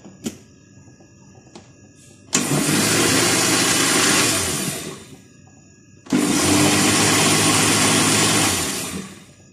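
An electric blender runs at low speed mixing banana cake batter, two steady whirring bursts of about four seconds each, separated by a short pause, loud and close with no talking.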